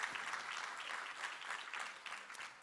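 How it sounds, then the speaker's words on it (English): A conference audience at a Zabbix summit applauds gold sponsors, a moderately quiet, even patter of many hands clapping in gentle waves from across the room. "So let's have a round of applause for every gold sponsor that I just named."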